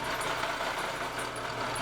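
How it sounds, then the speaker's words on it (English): A drill bores out a metal pulley from a farm to fit a bolt, giving a steady, close, buzzing whir with a faint repeating high squeal and no talk. "The pulley I found on the farm that I wanted to use needed to be drilled out a little bit to go on the bolt."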